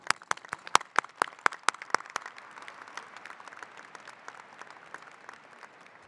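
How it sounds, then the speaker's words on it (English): High school graduation crowd gives a round of applause for a student speaker's mother: a few loud, distinct claps at first, quickly blending into a dense, steady patter of many hands that gradually thins. "would you guys do me a quick favor and give a round of applause to my mom?"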